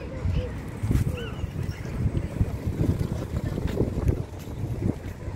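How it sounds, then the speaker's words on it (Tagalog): Strong wind buffets and rumbles against the microphone continuously in Riyadh, with faint voices and outdoor noise underneath. "Malakas ang hangin."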